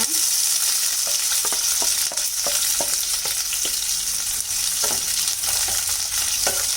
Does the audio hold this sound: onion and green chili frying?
yes